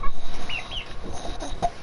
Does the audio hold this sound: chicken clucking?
yes